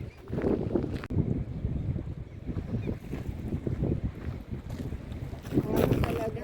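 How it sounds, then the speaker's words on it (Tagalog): Steady wind buffets the microphone in a low, rumbling roar, with water lapping and the hum of a boat underneath, near Suomenlinna. "Today is a bit windy guys."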